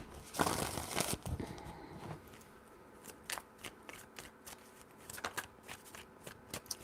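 Tarot cards being shuffled, with a burst of riffling up front followed by scattered crisp card flicks and taps at close range, no voices.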